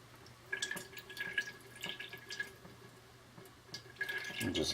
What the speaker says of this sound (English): hope you can see that dripping